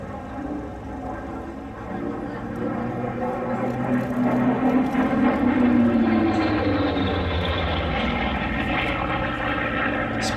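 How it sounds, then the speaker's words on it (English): A Grumman single-piston-engine fighter passes over an airshow, its propeller engine droning loudly and swelling as it nears, then easing away with a shifting pitch; faint voices sit beneath. "This was the last single-engined, single-piston engine fighter designed by Grumman."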